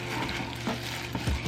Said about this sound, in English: So we're just gonna mix this.